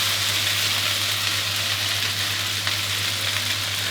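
Fresh yakisoba noodles stir-fried in a pan give off a steady, dense sizzle with a faint low hum underneath, holding an even level throughout with no talking.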